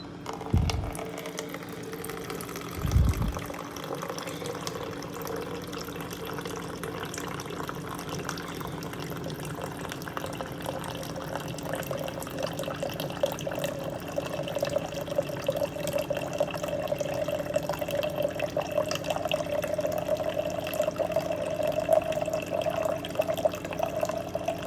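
A SimPure countertop reverse osmosis water dispenser pours a 350 ml measure in a steady, continuous stream of water that fills a container at close range, with a few soft knocks at the start.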